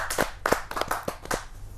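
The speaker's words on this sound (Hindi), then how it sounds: "जोरदार ताली" An audience at a Hindi poetry gathering (kavi sammelan) claps for a poet being called to the stage: about six distinct, evenly spaced hand claps, fairly loud and close, with no voices.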